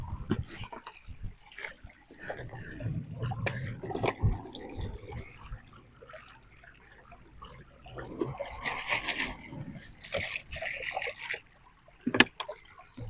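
Water running at a mountain spot in Ladakh, trickling and splashing steadily at a moderate, fairly close level, with brief louder bursts and no talk.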